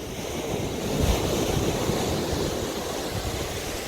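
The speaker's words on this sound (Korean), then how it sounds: "물은 잘 내려가고 있습니다" River water rushes past steadily at the Wangpicheon stream in Uljin, a broad, continuous wash mixed with wind buffeting the microphone, with no voices.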